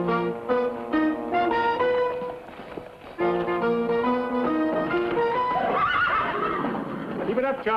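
Several horses whinny loudly in a classic Western scene, long shrill neighs rising and falling over a music score, followed by snorting and scuffling sounds.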